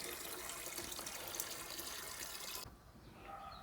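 Water runs steadily while tomato plants are being watered, a continuous broad rush that cuts off abruptly near the end, leaving a quieter background.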